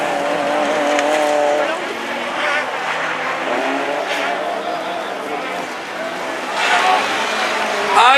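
Rallycross race cars compete in a French championship final at Dreux, engines roaring and tires squealing as they race closely on the track, with a commentator talking excitedly over the noise throughout.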